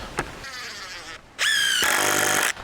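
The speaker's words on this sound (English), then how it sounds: "I'm gonna drive a few screws" A power drill drives screws into timber floor joists while a DIY cabin is framed: a quick tap, a short whir, then a longer, loud, high-pitched motor whine that rises and holds before cutting off.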